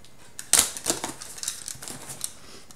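A parcel of perfumed Ayurvedic powders being opened by hand: close, quiet rustling and crinkling of packaging with a few sharp tearing snaps, alone without talk.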